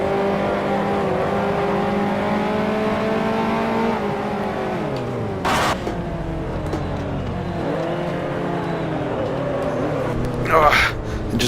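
Engine of a 1955 Formula 1 race car in the Grand Prix Legends racing game: loud, close, buzzing engine note that drops sharply as the car slows, then rises again, with brief tire squeals and rushing noise.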